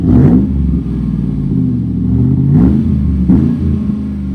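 A car engine idles loudly through a Borla S-type stainless steel exhaust and is blipped three times, each rev rising in a short, throaty burst before settling back to the steady burble.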